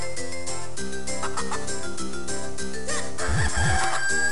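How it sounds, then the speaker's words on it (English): Cuccos in the Zelda Minish Cap video game cluck and crow in short bright calls over busy looping game music, with several quick squawks near the end. "Chicken, come back!"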